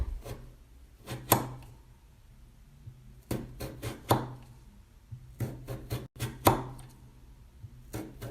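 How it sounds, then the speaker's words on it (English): A knife cuts a potato into fine Hasselback slices on a board: quiet, crisp chopping taps in small irregular bursts with short pauses between, close and alone. "So yeah, just keep chopping."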